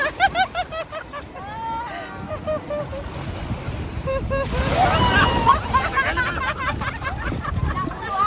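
Strong waves wash onto a shore in Laguna, a broad rushing surge that swells in the second half with wind buffeting the microphone, while voices talk over the start.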